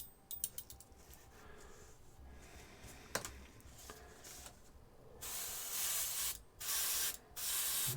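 Short hissing bursts of green spray paint coated onto a miniature, starting with a few faint spits and then building to loud, sustained sprays broken by brief gaps.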